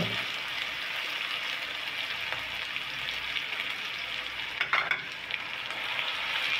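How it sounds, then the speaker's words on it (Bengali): Onion paste frying with ginger garlic paste and spices for a pangas fish bhuna curry gives a steady, close sizzle throughout, with a few brief stirring scrapes near the end. "এবার পেঁয়াজটাকে একটু মশলার সাথে হালকা করে ভেজে নিব আমরা"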